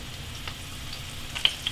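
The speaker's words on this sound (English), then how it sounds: "you hear the sizzle?" Steady, soft crackling sizzle of meatballs frying in olive oil, with a few sharper pops near the end; no voices.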